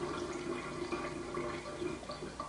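Acidic water runs from a Vesta GL988 water ionizer in a steady, close, hissing trickle of flowing liquid that lasts throughout with no talk.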